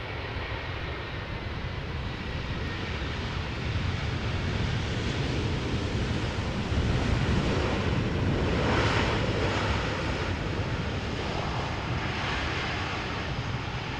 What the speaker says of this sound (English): Idle reverse thrust.